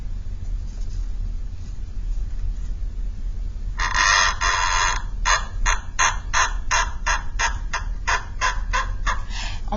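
A small cup squeaks against something in a rapid string of short, chicken-like squawks, starting after a quiet stretch and repeating in a loose rhythm, close and fairly loud.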